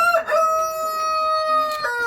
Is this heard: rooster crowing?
yes